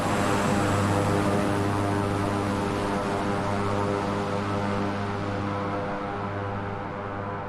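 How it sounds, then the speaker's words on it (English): A Beechcraft King Air's turboprop engines drone loudly and steadily in Flight Simulator 2020, a close, continuous propeller hum with strong tonal harmonics holding level throughout, with no talking. "I'm gonna go back up to the plane, so this will be really loud."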